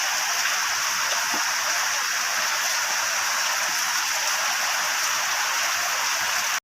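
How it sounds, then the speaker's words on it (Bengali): Greens frying in a pan give off a steady, dense sizzle that stays even and unbroken throughout, with no voices. "শাকটা ভাজা করছি"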